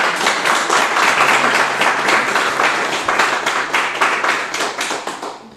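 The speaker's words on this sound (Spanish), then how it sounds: "Vamos a dar un fuerte aplauso al Señor." Congregation in a Spanish-speaking church breaking into strong applause; many hands clapping in a loud, dense, sustained burst that gradually thins out and fades near the end.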